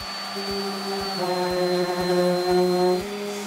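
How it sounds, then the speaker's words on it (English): An orbital sander fitted with 180 grit sandpaper works over a wooden succulent planter, giving a steady motor whine with strong tonal harmonics and a regular pulsing rhythm about twice a second, close and continuous throughout. "we can use an orbital sander and some 180 grit sandpaper to sand this whole thing down"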